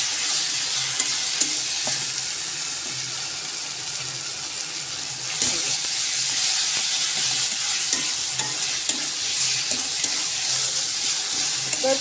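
Ginger garlic paste fries with onions in a pan for a spicy mutton curry, a loud continuous sizzle close by, dotted with light stirring scrapes and clicks.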